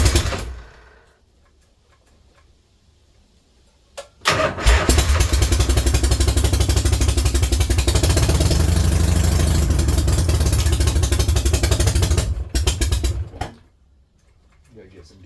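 A 1973 Harley-Davidson FXE Shovelhead V-twin fires up after a brief crank and settles into a loud, lumpy, close idle for about eight seconds before shutting off, with voices talking before and after.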